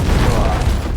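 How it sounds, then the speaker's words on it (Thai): A grenade goes off in the Delta Force shooter game, a loud, close boom with dense low rumble that fills the whole second, with scattered gunfire crackle mixed in. "เฮ้ยระเบิด"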